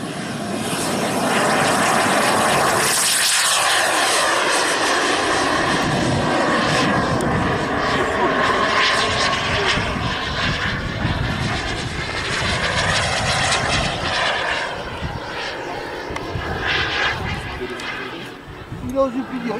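A radio-controlled model airplane flies at an air show meeting near Sarlat-Domme, its engine a loud, sustained buzzing drone that swells and fades as the plane passes, with people talking nearby.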